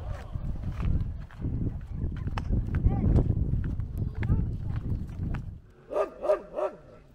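A dog barks three times near the end of a stretch of outdoor noise and voices on a street in Balkh, Afghanistan.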